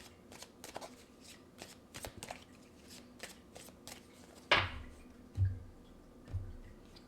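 Tarot cards are shuffled by hand, giving a quiet run of rapid riffling flicks followed by a few duller thumps as cards are squared and set down, heard close and alone.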